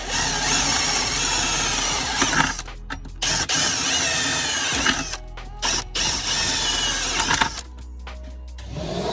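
A power drill whines in sustained bursts with short pauses between, loud and close, with mechanical grinding against metal, drilling holes during a dual battery installation on a 2021 Toyota Land Cruiser 200 Series.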